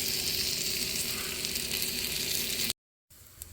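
Fully cooked Aldi beef sausages brown in a skillet with a steady, loud hiss of sizzling fat that continues unbroken, then cuts out briefly before resuming more quietly.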